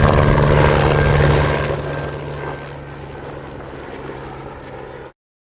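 Aircraft sound effect from a sound design library, a steady droning rotor-and-engine roar that starts loud, eases down to a quieter sustained hum midway, then cuts off abruptly.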